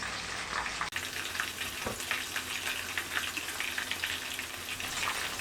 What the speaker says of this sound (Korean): 튀김은 노릇노릇하게 튀겨주시면 되고요